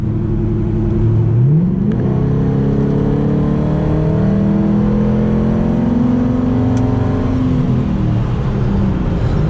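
A 2005 Ford Mustang GT V8 accelerating hard from a 50 mph roll, heard from inside: a loud, rising engine drone that climbs through a gear change and keeps pulling.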